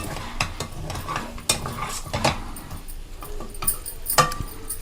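Mutton fry with green chilies and curry leaves is dry roasted in a pan and stirred from the bottom, producing irregular scraping and clinking of a spoon over a light sizzle, close and without talk.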